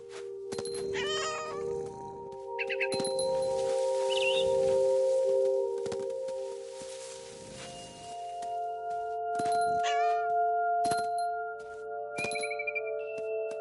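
Cat meowing in a video game, several drawn-out meows and chirpy cries repeating over a steady synthetic background tone, with brief glassy clinks, fairly close and clear.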